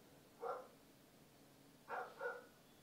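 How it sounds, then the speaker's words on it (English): A dog barks indoors from another room: one bark, a pause, then two quick barks, faint and distant over a quiet background hum. "The dog's quite loud."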